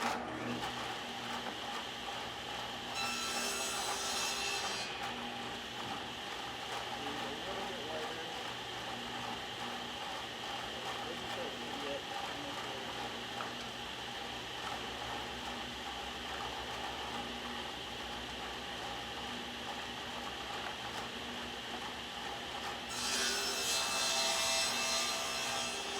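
A table saw fitted with a dado stack cuts a groove through wood, its steady whine holding for the full stretch with two louder bursts of cutting noise near the start and end.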